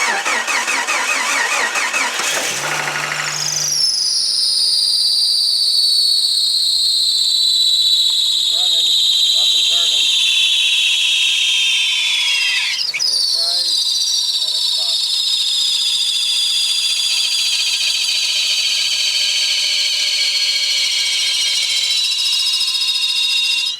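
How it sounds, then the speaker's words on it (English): A 1992 Jeep YJ with a 4.0L engine and a failing alternator cranks and fires up, then settles into an idle under a loud, steady high-pitched whine that drifts slowly downward. "Gonna give it a start, and it sounds really pathetic when you fire it up."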